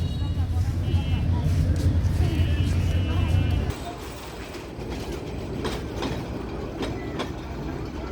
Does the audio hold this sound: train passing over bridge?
yes